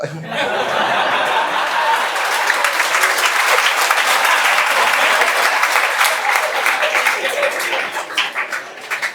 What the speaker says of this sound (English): are these claps so that I can stop?